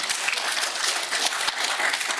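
Dense, steady applause fills a city council chamber, a brief unbroken patter of many hands clapping with no voices over it.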